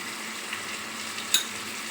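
Spices, including Kashmiri chilli powder and ground cumin, sizzling steadily in a pan while being stirred for a papad curry, a soft continuous frying hiss with a couple of faint scraping knocks.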